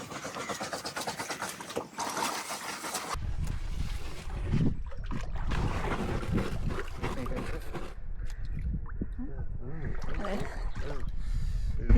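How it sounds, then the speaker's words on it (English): Scrubbing aboard a sailing boat moored at Alderney in the Channel Islands: steady, rough rasping and brushing strokes up close, continuing throughout with wind and water noise behind. "That noise you can hear, it's Becky doing some scrubbing"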